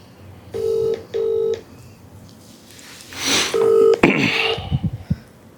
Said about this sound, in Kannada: ಸ್ಪೀಕರ್ ಫೋನ್ ಹಾಕಿ ಹೊಡಿತಾ ಇದ್ದೀನಿ ಸರ್.